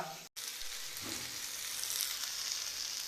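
Potatoes and chicken fry in a pan, a quiet, steady sizzle with light stirring, briefly cut off near the start and otherwise continuous.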